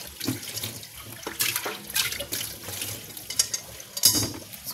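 Water runs and splashes steadily from a flowing source as it is collected, with gurgles and irregular bursts close by and no talking.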